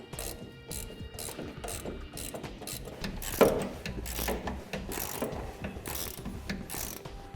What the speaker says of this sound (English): For that, we're just going to need a ratchet and a wrench to hold our nut for us.